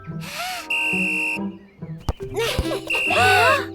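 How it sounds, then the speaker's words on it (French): A cartoon whistle is blown several times in short, shrill blasts, mixed with bright cartoon sound effects and brief tones. "elle adore souffler dans le sifflet"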